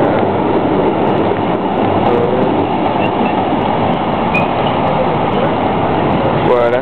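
A train rumbles by close and loud in Amsterdam, a steady heavy rolling roar with squealing wheels and metallic clatter throughout, and a voice faintly underneath.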